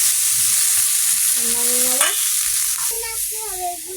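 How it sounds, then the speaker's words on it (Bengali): Prawns frying and being stirred in hot oil in a pan, a loud, steady close-up sizzle that runs unbroken throughout, with a few faint tonal whines rising over it. "চিংড়া ভাজা হয়ে গেছে"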